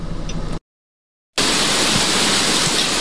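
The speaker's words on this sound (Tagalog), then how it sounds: "bumubuhos yung tubig." Water pouring down from above during heavy rain, a dense, loud, continuous rushing roar that cuts out briefly to silence before resuming at full force.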